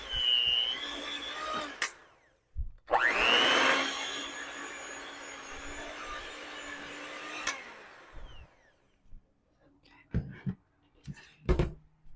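An electric blender whirs for several seconds, mixing cream cheese with corned beef, green onion, parsley, onion powder and garlic powder. A steady loud motor drone starts and stops, followed by scattered soft knocks and handling noises.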